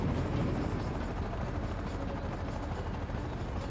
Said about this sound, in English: I've got a Hind on visual. It's a Mi-35.